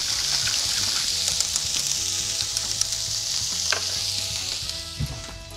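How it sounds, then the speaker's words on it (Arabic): Sugar is stirred in a hot frying pan, sizzling and crackling steadily up close, with occasional scrapes and clinks of the utensil against the pan. "هون اكيد بدنا نحرك كرمال يدوب"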